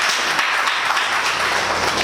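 Conference audience applauding in a hall, a steady dense wash of many hands clapping with no speech over it.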